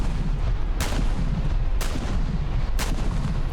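Heavy naval guns in War Thunder fire on the cruiser Atlanta: three loud, booming shots about a second apart over a dense, constant low rumble of battle.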